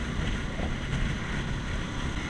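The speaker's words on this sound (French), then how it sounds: "Beaucoup de vent quand même hein." Strong outdoor wind buffets the microphone in a steady, loud roar with no talking.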